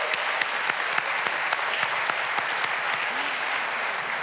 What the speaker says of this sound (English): Another round of applause for our amazing moms.